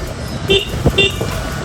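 A few short car horn toots beep out over a rumbling roadside background, two distinct honks separated by a brief gap.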